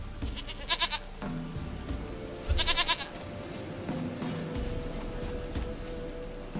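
Goats bleat in The Witcher 3 video game, two clear rising bleats a couple of seconds apart over a steady ambient game backdrop with faint low rumbling.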